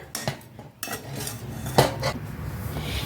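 A utensil stirs rice flour dough in a pan for a Bengali panifol pitha: irregular close scrapes and clinks of metal against the pan, with soft pauses between strokes and no talking.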